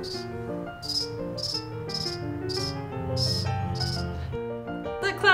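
A voice imitates a cricket, giving a steady series of about eight short, high chirps at an even pace over a low hum, close and clear.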